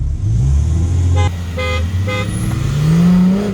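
A VW Amarok V6 pickup and a Porsche Panamera Diesel accelerate hard in a drag race, a loud low engine drone rising in pitch, interrupted by a few short horn-like toots.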